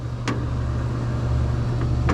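A lawn mower runs steadily with a low droning engine hum and a rough, noisy rattle, close and continuous, with a couple of brief sharp clicks and no talking.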